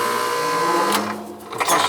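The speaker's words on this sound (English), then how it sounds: "Compressor's starting." Compressor of a four-year-old home air conditioning system that will not cool kicks on, a loud steady mechanical hum with tonal whine that shifts and stutters near the end, close by.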